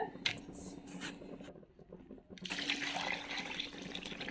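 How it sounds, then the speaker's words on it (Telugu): Water for vegetable biryani pours into a pot of rice in close, splashing streams, broken by a short pause before pouring resumes strongly. "ఇలా 1కి 2 చొప్పున వాటర్ అయితే యాడ్ చేసేస్తున్నాను"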